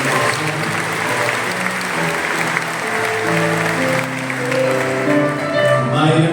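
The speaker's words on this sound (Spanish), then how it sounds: "Para ellos un aplauso en el día de su" A church congregation at a Christmas aguinaldo Mass claps warmly for married couples, the sustained applause mixed with voices and a few cheers, fairly close and loud throughout.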